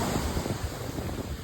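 Ocean waves washing onto Moss Landing Beach, a continuous loud roar of surf with heavy wind buffeting the microphone and no one speaking.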